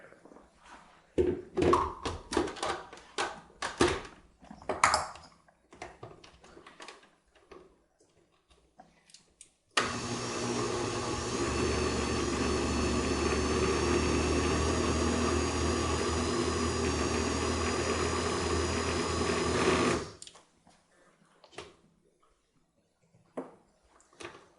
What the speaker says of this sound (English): I'm going to put it in the blender, right into the blender, to make these big chunks easier to swallow.